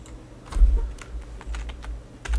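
Fingers tap out a comment on a computer keyboard, a quick irregular run of soft, close keystrokes with short pauses between bursts, alone and fairly quiet.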